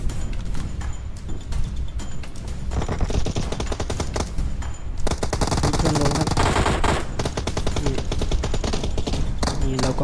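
Rapid automatic gunfire in the mobile shooter game PUBG Mobile rattles almost without pause in loud, dense bursts, with overlapping shots from more than one weapon.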